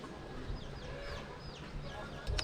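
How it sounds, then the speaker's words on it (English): Soft clucking of chickens comes from nearby amid a steady outdoor background in a sea gypsy village in Thailand, with faint bird chirps scattered through. "Chickens under there."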